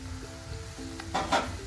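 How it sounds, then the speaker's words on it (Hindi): Ginger paste fries in a pan with a soft steady sizzle, joined near the end by a brief louder hiss and scrape as it is stirred. "इसको फिर हम फ्राई करेंगे। इसको बस हल्का सा कलर इसका चेंज हो जाए।"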